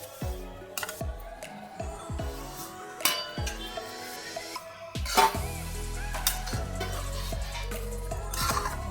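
Roasted vermicelli stirred in sugared boiling water in a pan for upma, a spoon clinking and scraping against the pan in repeated strokes over a steady bubbling hiss, with no talking.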